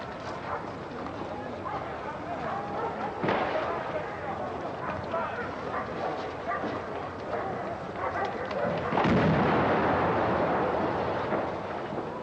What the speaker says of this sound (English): The explosion ripped through the building.